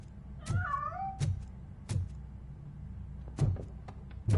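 Cat meowing in the video game RoboCop: Rogue City: a rising, wavering meow near the start, alone, with several sharp thuds and clicks from in-game footsteps or objects spread through the scene.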